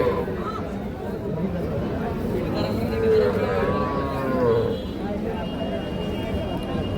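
Cattle and calves moo in low, drawn-out calls amid a busy outdoor cattle market crowd with people chattering nearby.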